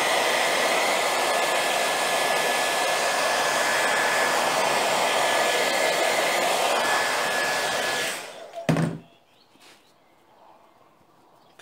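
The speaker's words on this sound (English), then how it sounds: "just going to flash over that again with a hairdryer." A hairdryer blows steadily and loudly at close range over a fresh finish on MDF off-cut bookends, then switches off with a brief clatter, leaving near silence.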